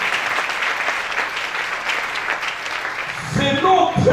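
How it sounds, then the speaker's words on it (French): A church congregation applauds, a dense, steady wash of clapping that fills the space before fading as a voice and music come in at the end. "Est-ce qu'on peut applaudir pour notre Dieu?"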